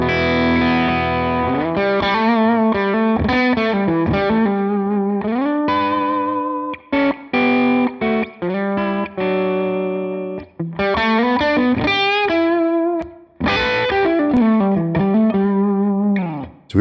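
Electric guitar played through a Line 6 Helix speaker cab, captured on a ribbon mic, rings out distorted with chorus in sustained chords and melodic runs, loud and alone with brief pauses.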